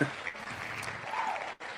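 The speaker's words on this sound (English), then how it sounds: "Can you hear the clapping? There's clapping." Clapping from a studio audience during a Drive-In Asylum double-feature show segment, a faint, steady patter of hands lasting under two seconds with a brief dropout near the end.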